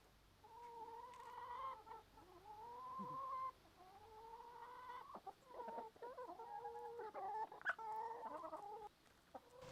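Hens at a countryside cottage cluck and murmur close by in a busy, overlapping chatter of short rising calls, with no one speaking.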